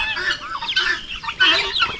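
Backyard chickens cluck in short, close, overlapping bursts, the calls rising and falling in quick succession.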